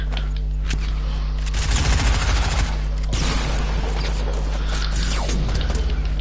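Rapid bursts of gunfire ring out in a Fortnite match, loud and close, with a dense cluster of shots near the middle and scattered impacts after.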